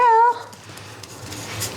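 A dog outside whimpers in a short, high, wavering whine that fades quickly into faint background noise and a few soft sounds.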